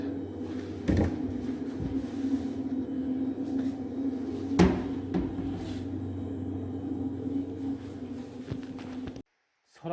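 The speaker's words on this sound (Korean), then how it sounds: "서랍을 다 분리합니다." Drawers in apartment furniture are pulled out and removed, giving several wooden knocks and sliding bumps over a steady low background hum, with a sharper clack near the middle.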